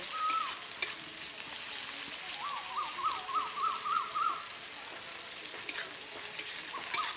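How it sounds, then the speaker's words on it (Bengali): Chopped onion fries in a pan, a steady, fairly soft sizzle with light stirring scrapes, and a faint chirping trill in the background partway through. "পেঁয়াজটাকে হালকা বাদামি করে ভেজে নেব।"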